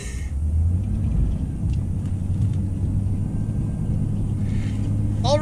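A car engine rumbles low and steady from inside the vehicle while driving home in frozen conditions, a continuous droning hum with road noise and no talking.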